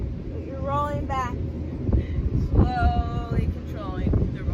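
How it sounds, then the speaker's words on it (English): Strong outdoor wind buffets the microphone with a low, gusty rumble beneath a person talking during a bodyweight workout. "It is getting significantly windy out here."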